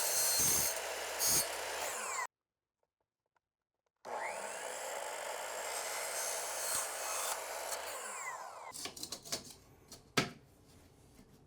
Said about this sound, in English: Let's go ahead and cut a straight cut first.